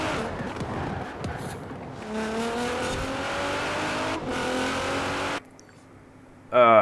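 Race car engine in a Le Mans racing video game, a loud steady drone with rising harmonic pitch as it accelerates along a straight, dropping abruptly to a quiet idle near the end before surging loud again.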